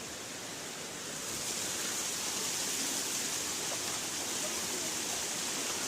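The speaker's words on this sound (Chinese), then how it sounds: "这水流很急的，稍微小心点。" A powerful waterfall and a fast, churning stream on Lombok Island, Indonesia, roar as a steady, dense wash of rushing water that swells slightly after the first second and then holds loud and unbroken.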